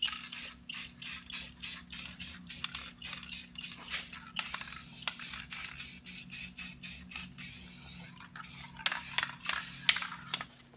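Aerosol can of crystal clear enamel sprayed onto a brake disc already coated in high-heat paint, heard as a rapid series of short, sharp hissing bursts over a steady low hum.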